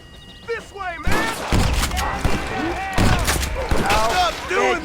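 Rapid gunfire in the Western game Red Dead Redemption, loud overlapping shots and thuds in a sustained firefight, mixed with shouting voices and game chatter.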